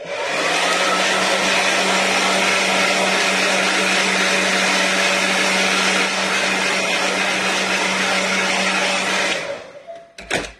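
A hair dryer dries white gesso on an artwork, a loud, close, steady whooshing hum that runs continuously for about nine seconds and then cuts off, followed by a couple of brief handling noises.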